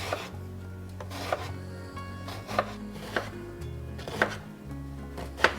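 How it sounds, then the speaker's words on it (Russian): A knife chops eggplant into cubes on a cutting board, a series of sharp taps spaced about a second apart, close and clear. "Баклажан нарезаю кубиками"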